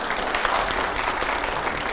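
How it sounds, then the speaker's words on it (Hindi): A studio audience at a televised political interview show breaks into loud, dense applause, a continuous wash of clapping with no break. "जोरदार तालियां हो जाए प्लीज एक बार"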